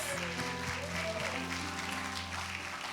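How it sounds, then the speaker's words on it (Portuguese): A church congregation claps continuously, a dense patter of applause with some low background hum underneath. "uma salva de palmas"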